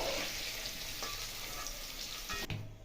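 Paneer fries in hot oil in a pan, giving a steady close sizzle that runs throughout, with a sharp clank near the end as the pan or a utensil is handled.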